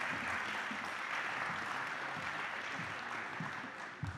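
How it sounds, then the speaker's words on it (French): Moderate audience applause welcoming round-table guests onto a stage at a conference on workplace health and safety, a continuous bed of clapping that thins slightly toward the end. "Allez, vous les accompagner par quelques applaudissements."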